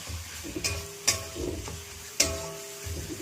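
Mashed fish stir-fried with masala and crushed ginger, a soft continuous sizzle under a few sharp spatula clinks against the pan at close range.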